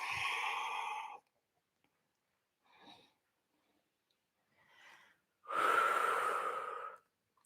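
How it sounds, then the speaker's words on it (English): Heavy breathing during a live power flow yoga class, a long audible exhale followed by two short soft breaths and another strong, close breath, with no talking. "Use your inhales and use your exhales."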